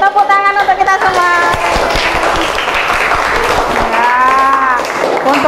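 Classroom group applause, a short burst of dense clapping from students, with voices calling out over it.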